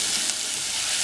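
Finely chopped small onions hit hot oil in a pan for a chickpea and eggplant kuzhambu, giving a loud, dense, continuous hissing sizzle over a brief moment with no voices.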